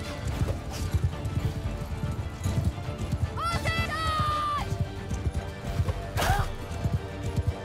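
Massed hoofbeats pound through a Mount & Blade 2 Bannerlord battle as cavalry charges. Loud rhythmic clip-clop runs throughout, with two clear horse whinnies cutting through, and someone speaks over it.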